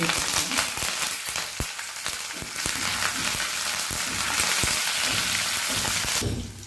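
Hot oil sizzles and crackles steadily as dried red chilies and curry leaves fry in a pan for rasam tempering, with small pops and stirring scrapes; the hiss swells briefly near the end.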